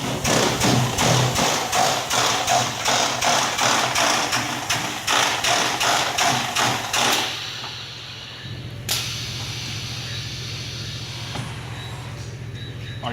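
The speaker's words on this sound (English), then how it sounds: "and then we'll raise the head up" A 5-gallon straight-line pressure overflow filler cycles with a run of rapid, regular mechanical clacks as its filling head is raised. A steady machine hum then continues, broken by a sharp click and a softer knock.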